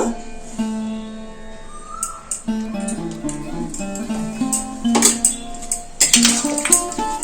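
A utensil stirs ghee and radhuni in a cooking pan, clinking and scraping against the metal in irregular knocks, with a few sharper clatters near the end and a voice speaking softly over it.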